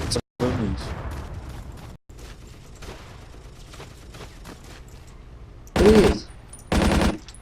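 Bursts of rapid automatic machine-gun fire in Battlefield 1942, with a long rattling stretch under game noise and two loud, sharp volleys near the end.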